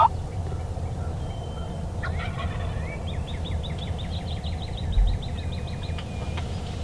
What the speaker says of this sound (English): there's turkeys gobbling everywhere, every direction